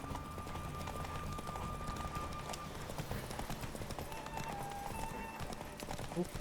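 A horse gallops in The Witcher 3, its steady rhythmic hoofbeats running continuously at moderate volume beneath faint ambient game sound.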